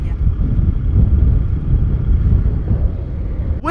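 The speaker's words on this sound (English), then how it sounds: "Windy. It's super windy." Strong gusting wind buffets a microphone while a hotshot driver travels from Odessa, Texas toward Denver, Colorado, a loud steady low rumble filling the whole stretch with no speech heard.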